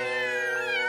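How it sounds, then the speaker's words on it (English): A kitten meows once, a single clear, high, drawn-out cry heard close and loud in an animated cartoon. "Three playful kittens."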